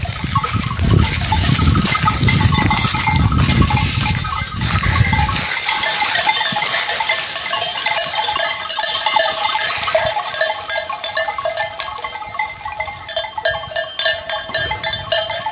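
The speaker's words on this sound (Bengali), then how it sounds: "দেখেন কত গরু এখানে" Cowbells clank and jingle in a steady, busy cluster from a herd of cows on an Italian farm, with a low rumble of movement early on that gives way to lighter, scattered ringing.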